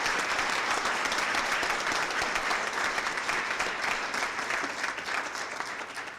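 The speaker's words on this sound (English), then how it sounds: "I'd ask you to give him one more hearty applause" An evening audience at an education leadership event gives a guest hearty applause, a thick, even roar of clapping that holds steady and fades slightly near the end.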